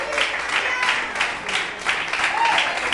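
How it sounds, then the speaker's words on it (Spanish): Applause and clapping from a small crowd after a girl named Vicky's first taekwondo bout, steady for a few seconds with scattered cheering voices mixed in. "un aplauso para Vicky"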